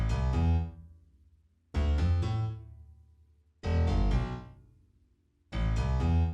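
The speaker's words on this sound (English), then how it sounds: "And then we have this second piano, which is also coming from Contact," A second Kontakt piano run through an equalizer plays four rich chords at steady intervals, each ringing out with a long, fading tail, bright and close, with no talking.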